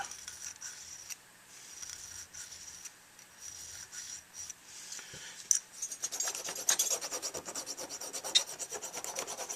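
A hand file rasps a slight chamfer onto a handmade Mojo Vortex 2 tenor saxophone mouthpiece, starting with scattered light strokes and settling into a rapid, steady run of scraping strokes up close, with no talking.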